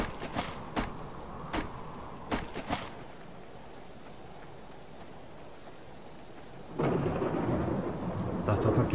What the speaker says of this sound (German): Dass das natürlich jetzt noch gewittern muss.